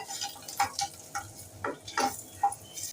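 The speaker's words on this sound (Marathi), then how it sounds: "आता ही सर्व बाजूने थोडी परतून घेऊया थोडीच आपल्याला एक दोन मिनटं सर्व बाजूने परतून घ्यायची आहे" Boiled eggs are sautéed in oil in a pan for egg curry, turned on all sides, with a light sizzle under intermittent scraping and clinks of a spoon against the pan, a few distinct strokes over three seconds, without speech.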